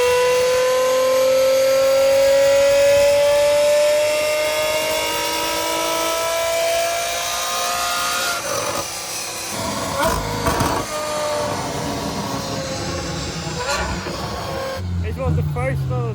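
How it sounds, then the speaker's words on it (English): Naturally aspirated Ferrari F12 engine revving, a loud sustained rising engine note with harmonic whine that drops and pulses in short revs toward the end, close and dominant. "these are only small baby revs, so it will unleash the full power in a second."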